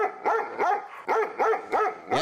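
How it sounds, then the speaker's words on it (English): A dog barking in a quick series of about six sharp, close barks in an uneven rhythm, loud and clear with no talking. "thank you to that dog for barking for our promo"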